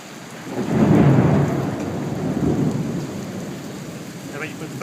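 Thunder rumbles close overhead with steady rain falling during a storm at a workplace, a loud roll swelling near the start and a second rumble following, rain hissing throughout.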